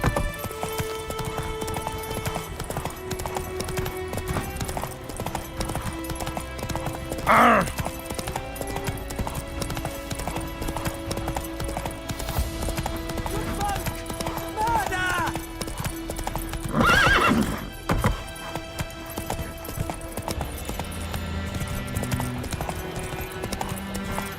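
Horse hooves beat a fast, steady galloping clip-clop in The Witcher 3, broken by two loud whinnying neighs, while a voice talks over the riding.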